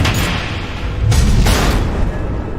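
Missile explosions in the Batman Telltale Series video game, with loud, close booming blasts in quick succession over a dense rumbling roar.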